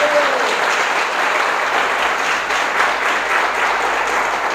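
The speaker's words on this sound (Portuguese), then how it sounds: "Vamos aplaudir o nosso Deus amado." A church congregation applauds together in steady, loud clapping that holds from start to finish, with no pauses and no voices rising above it.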